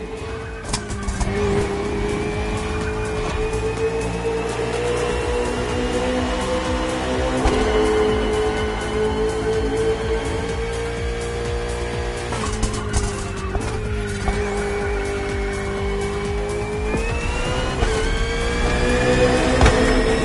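A KTM RC16 motorcycle and a Ferrari 488 GT3 race car in the video game The Crew Motorfest drone continuously at high revs, pitch sliding up and down through gear changes, with a brief tire squeal along the way.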